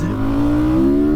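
Honda CRF 450 supermoto motorcycle accelerating hard, its engine note climbing steadily in pitch, loud and close throughout with no talking.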